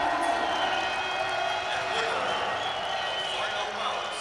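Crowd applause and cheering for a Yakutia team wrestler at a freestyle wrestling tournament, a steady, dense wash of clapping in a large hall that holds even across the whole stretch, with an announcer's voice talking over it.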